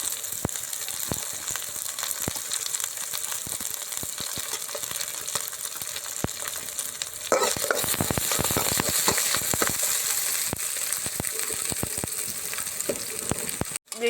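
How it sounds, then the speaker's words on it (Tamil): Curry leaves and chopped shallots frying in hot oil in a pan, a constant loud sizzle with crackling pops that grows brighter and fuller about halfway through, ending with a brief clatter. "கருவேப்பிலை, சின்ன வெங்காயம் கட் பண்ணி பொடிசாக சேர்த்துக்கிறேன்."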